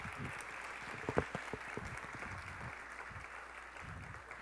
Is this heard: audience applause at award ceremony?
yes